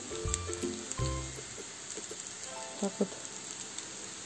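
Grated potato pancakes (draniki) sizzle as they fry to a golden colour in a hot pan, a soft crackle with a few sharper pops, under a voice speaking Russian.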